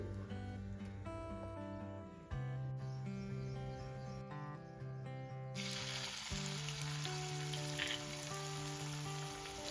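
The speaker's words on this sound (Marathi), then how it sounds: "चला आपण लगेच तेलामध्ये परतवून घेऊ" Cumin and coriander sizzle steadily in hot oil for Maharashtrian thecha, the frying hiss swelling louder midway and carrying on under a layer of tonal background music.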